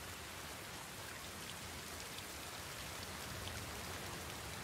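Steady rain pours in The Last of Us Part II, a dense, even hiss of drops on surfaces that holds at a constant level throughout with no talk over it.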